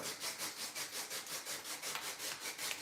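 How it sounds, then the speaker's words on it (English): A pumice stone, a firm sponge-type one with a light sandpaper-like surface, is rubbed against the skin of a foot in quick, steady back-and-forth strokes, each a close, dry rasp in an even rhythm, with no talking. "you take your pumice stone, and this is like one of those sponge ones, but it's not soft like a sponge. It's like sandpaper a little bit"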